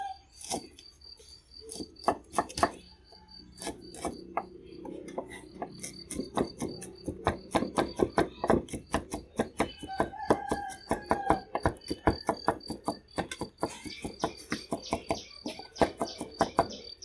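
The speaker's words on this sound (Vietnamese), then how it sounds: "Mình sẽ bầm một ít tỏi." Knife chopping and mincing garlic on a cutting board for a vegetarian dish, a steady run of sharp close knocks that speed up into rapid repeated taps, with no talk.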